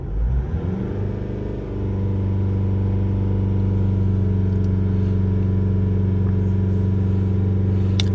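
A Mazda CX-5 engine with a diesel particulate filter fault rises in pitch as it revs, then holds a loud, steady drone at about 3,000 RPM, close by, with no voices.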